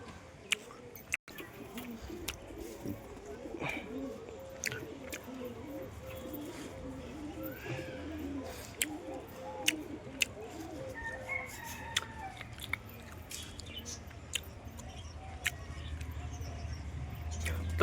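Pigeons perched on rooftops coo and flutter faintly amid an outdoor neighborhood backdrop with a rooster and other fowl calling, scattered clicks and low hum throughout, quiet and distant.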